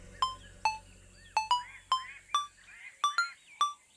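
A phone rings with a repeating electronic ringtone, short chirpy tones in a quick irregular pattern, clear and moderately quiet.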